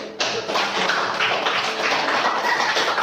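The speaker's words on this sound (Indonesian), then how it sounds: "Aplaus dulu." A group of students in a classroom bursts into applause, a dense burst of close, loud clapping that starts suddenly and holds steady for a few seconds with no talk over it.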